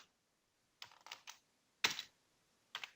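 Someone types a short word on a computer keyboard, producing a few quiet, close, crisp keystroke clicks in small clusters separated by silence.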